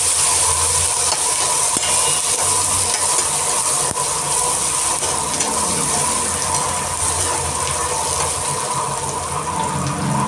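Onions sautéing in a pan for a home-cooked lunch, a steady close sizzle with faint stirring and scraping running for the whole stretch, no voices.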